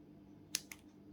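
Two quick, crisp snips of cutters through thin wire used for wrapping a resin gemstone, close and sharp against a quiet room.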